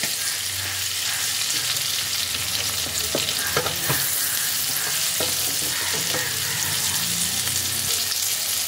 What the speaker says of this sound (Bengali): বেগুন আর ডিমকে একসাথে লাল লাল করে ফ্রাই করে নিতে হবে।